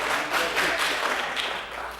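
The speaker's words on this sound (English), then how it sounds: "please, no clapping" Audience applause breaking out during a city commission meeting in Coral Gables, a dense steady patter of many hands clapping throughout, fairly close, with no talk over it.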